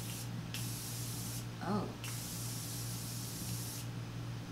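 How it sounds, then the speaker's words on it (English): An aerosol makeup setting spray lets out a steady, loud, close hiss of microfine mist that runs almost the whole time, briefly interrupted, while a voice gives a short exclamation partway through. "It's a microfine mist, sets liquid or powder with a radiant finish. It's aerosol"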